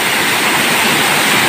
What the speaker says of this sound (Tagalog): So enjoy natin yung lagas ng tubig mga ano ha.